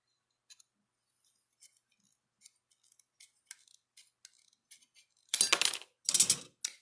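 Snips cutting copper sheet metal for pendants make sparse, quiet metallic clicks and snips at first, followed by two louder bursts of scraping metal near the end.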